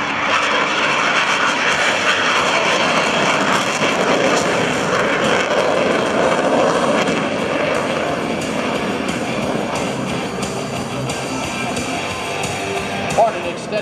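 An F/A-18C Hornet with two GE F404 turbofan engines roars at full power during an airshow demonstration, a loud continuous broadband jet rumble and whine that holds steady for the whole stretch.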